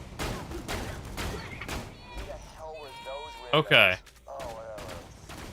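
Gunfire in the video game Fallout 4, played in survival mode, comes as short, sharp bursts of shots under a voice, with one loud burst standing out near the middle.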